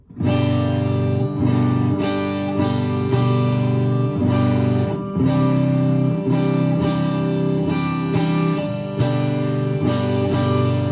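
Electric guitar, a Gretsch Sparkle Jet clone, strummed in a clean tone with light distortion and a touch of reverb, chords changing in a steady rhythm, no voices.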